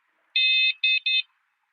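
An electric scooter's aftermarket alarm sounds close and loud: one long shrill electronic beep followed by two shorter ones in quick succession, then silence.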